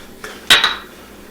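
In a home kitchen during shrimp appetizer prep, a metal spoon clinks against a bowl or measuring cup: a light tap, then a sharp ringing clink with a brief fading ring, close and clear.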